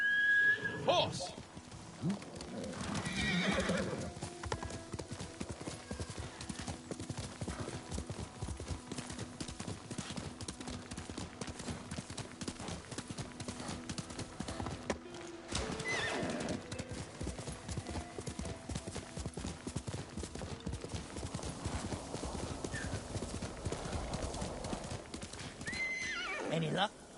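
Hooves clip-clop in a fast, steady gallop with horses neighing in Ghost of Tsushima, set against game music and effects, with voices talking over parts of it.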